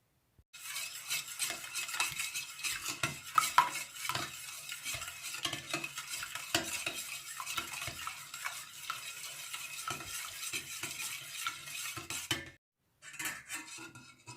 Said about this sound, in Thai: ทีนี้เราก็จะทำการ ผสมเขาให้เข้ากันนะคะ